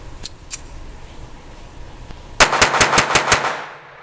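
Jennings J-22 pistol firing CCI subsonic ammunition, a few faint early shots followed by a rapid string of about seven sharp, close reports in quick succession.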